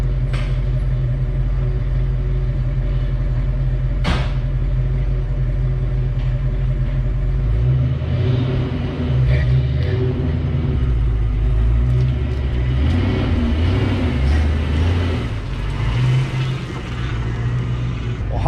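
Car fitted with a T-5 transmission swap and an exhaust leak backs out for the first time, its engine rumbling steadily and close by for the whole stretch, the low drone swelling slightly midway with a single sharp click early on.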